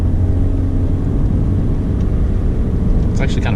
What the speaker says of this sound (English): Car runs really good.